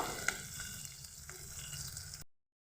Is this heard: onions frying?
yes